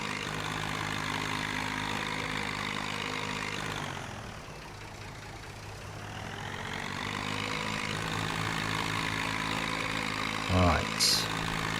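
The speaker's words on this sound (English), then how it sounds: "that tractor sounds very noisy today" A vintage tractor engine idles noisily and steadily in Farming Simulator 19, a continuous mid-pitched drone that dips briefly before returning, ending with a short click.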